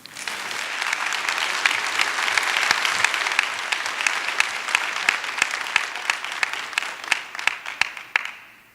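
A large audience at a spring college commencement ceremony gives a sustained, loud round of applause with dense clapping throughout, tapering off toward the end.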